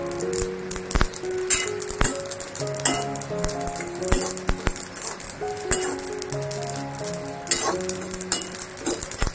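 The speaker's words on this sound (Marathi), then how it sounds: "असा तडतड आवाज यायला लागला म्हणजे आपलं भाजून होत आलंय" Niger seeds dry-roasting in a pan for chutney, giving scattered light crackles and pops with soft scraping stirs, close and fairly quiet, no talking.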